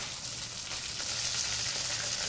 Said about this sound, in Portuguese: vamos colocar a tira de bacon, vamos fritar essa tira de bacon